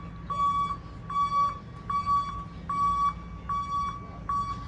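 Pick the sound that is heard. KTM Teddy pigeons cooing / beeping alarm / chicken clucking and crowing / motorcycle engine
beeping alarm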